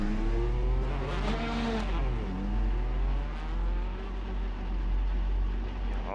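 Praga race cars in an Assetto Corsa-style sim race pull out of the pits at Watkins Glen. Several engines rev and whine together, the pitch climbing and falling as the cars accelerate away, loud and close.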